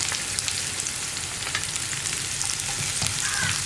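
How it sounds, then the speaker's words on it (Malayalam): Sliced onion and garlic fry in a pan for a kovakka mezhukkupuratti, giving a dense, even hiss of hot oil that fills the whole clip, close up with a few faint stirring clicks and no voices. "വെളുത്തുള്ളിയും ചേർത്തിട്ട് ഇതൊന്ന് വഴറ്റിയെടുക്കുക"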